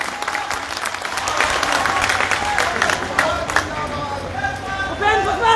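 Rally crowd in Muzaffarpur, Bihar, applauding loudly and steadily throughout, with a dense wash of clapping mixed with crowd voices and murmur.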